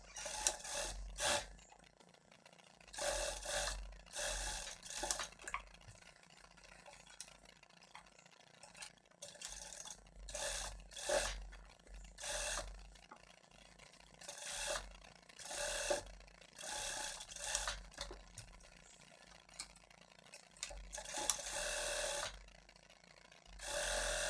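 A straight-stitch sewing machine topstitches a corset top with repeated short mechanical runs, a fast ratcheting, clattering needle rhythm that starts and stops in bursts, fairly quiet and without speech.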